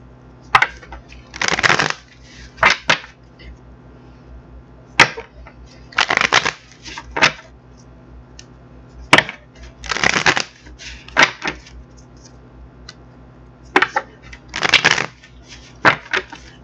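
Tarot cards shuffled in repeated bursts, each riffle a crisp papery rush lasting about a second, separated by short sharp taps and quiet gaps; close and fairly loud, with no voice.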